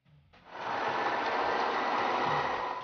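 Sewing machine stitching along the edges of a cushion cover, starting up after a brief quiet moment and then running in a steady, continuous close whir to the end.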